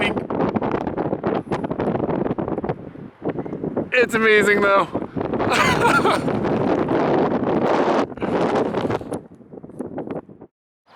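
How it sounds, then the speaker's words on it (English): Wind and rain at the Grand Canyon buffet the microphone in loud, rough gusts of noise, with people talking over the blustery roar. "I made this video of the wind and rain."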